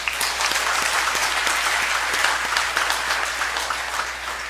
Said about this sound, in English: Let's give the Niño a big round of applause.